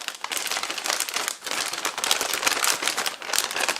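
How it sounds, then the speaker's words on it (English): A Ziploc bag holding herbs and spices is squeezed and massaged by hand, giving a close, steady run of crisp plastic crinkling with brief pauses, no talking. "All in the Ziploc bag. And what I like to do is I like to massage it in a little bit."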